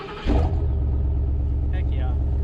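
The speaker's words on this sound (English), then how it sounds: "Let's give you a nice V8 rumble." A 2020 Ford F-250 Lariat Super Duty V8 fires up with a loud burst, then settles into a steady, deep, throaty idle rumble close by.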